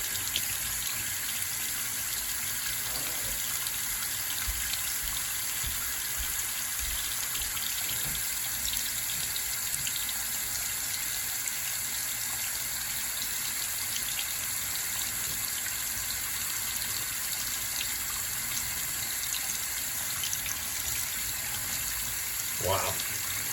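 Hot water tap in a bathroom or kitchen running steadily, a constant faint hiss of flowing water with a person talking over it.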